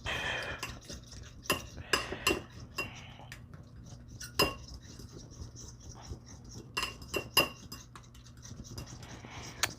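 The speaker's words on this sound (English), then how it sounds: "we're just gonna be whipping that right up" Sauce for coconut shrimp being whisked in a bowl, giving close, irregular metallic clinks and light scrapes of the utensil against the sides, with quiet pauses between bursts.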